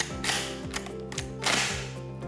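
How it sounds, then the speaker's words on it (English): Bolt of an SA-08 shotgun being cycled to feed a shell into the chamber, heard as a series of close, crisp metallic clacks and ratcheting slides repeating in quick rhythm over about two seconds. "Cycle the bolt to feed the next shell into the chamber."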